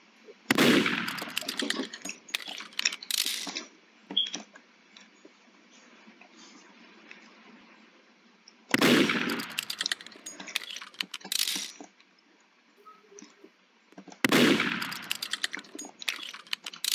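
Gunfire in the Roblox game Murder Mystery 2, three bursts of sharp, clattering shots spaced several seconds apart, loud and close with quieter game noise between.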